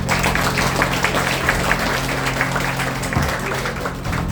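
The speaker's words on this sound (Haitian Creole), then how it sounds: "nous battons un gros bravo pour Fan Club Troupe Mété Malaisa" A crowd applauds a fan club troupe at a celebration, a steady, dense wash of clapping held at a constant level throughout, with faint voices mixed in.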